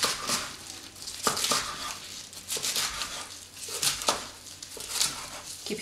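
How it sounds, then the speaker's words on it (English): A knife slicing through a stack of kale leaves into ribbons on a board, soft crisp crunching cuts repeated at an uneven rhythm, close and fairly quiet. "So now that we've got our pile of kale leaves, I'm just going to pile them up and cut them into ribbons"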